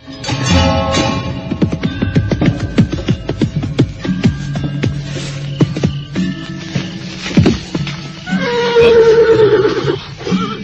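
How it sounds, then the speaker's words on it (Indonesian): A white horse carrying a rider dressed all in white passes by, giving a loud, drawn-out whinny near the end amid a busy, layered soundscape of hoof-like thuds and other activity. "seekor kuda putih dengan penunggangnya yang berpakaian serba putih melintas ke arah timur"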